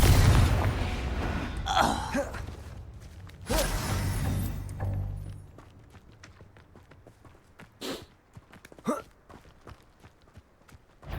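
A Confringo blasting spell explodes in Hogwarts Legacy with a heavy boom, followed by crumbling debris and scattered impacts. Later, several sharp thuds come and go over quieter game ambience.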